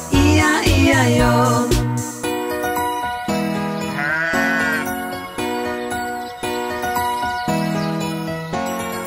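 Sheep bleats set inside a children's Old MacDonald farm-animal nursery song, sung over bright music with a steady beat; the animal sound comes in short repeated calls between the lyrics.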